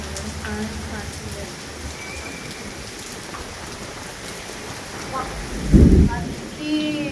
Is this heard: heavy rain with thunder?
yes